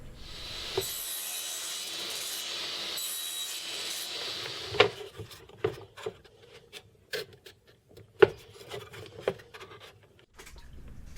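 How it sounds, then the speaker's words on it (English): Wooden shoehorn handles cut by hand, with a dense rubbing rasp at first, then a series of separate sharp saw or file strokes, close and clear with no talking. "I'm cutting two handles to fit at the end of the leather strips"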